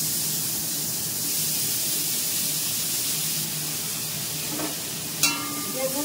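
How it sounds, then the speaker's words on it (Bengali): Five-spice seeds tempering in hot oil give off a steady, close sizzling hiss throughout, with a couple of brief clinks near the end. "একটু 5 ফোড়ন দিলাম"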